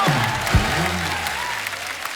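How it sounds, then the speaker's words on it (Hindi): A studio audience at a TV comedy talk show bursts into loud, sustained applause for actress Bhagyashree, a steady wash of clapping with voices rising over it. "जोरदार तालियां यार, वाह वाह"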